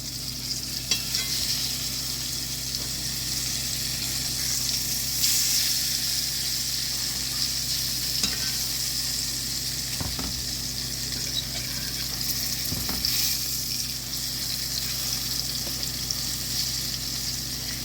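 Thin breaded pork chops fry in a pan, giving a steady close sizzle and crackle with a few faint clinks, with no voices over it.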